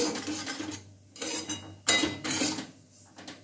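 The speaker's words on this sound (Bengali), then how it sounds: "একটু আরেকটু ভেজে নিচ্ছি।" Grated coconut is fried in a pan with a spatula scraping and clattering against the metal in uneven bursts, close and fairly quiet.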